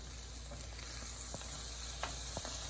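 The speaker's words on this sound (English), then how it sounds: "You wanna hear that sizzle." Steady sizzling of vegetables sautéing in butter in a hot pan, a continuous hiss with a few brief clicks and stirring scrapes, close by.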